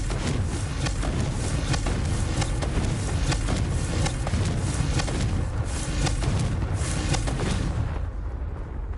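The Confringo blasting spell in the video game Hogwarts Legacy sets off a continuous roar of booming, crackling blasts, loud and dense from start to finish before easing off at the very end.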